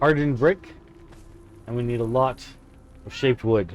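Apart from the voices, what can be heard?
pet cat meowing in background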